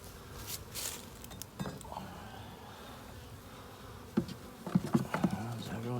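Honey bees buzz around an opened hive during an inspection, a quiet steady drone with louder passes as individual bees fly close to the microphone, alongside occasional soft handling knocks.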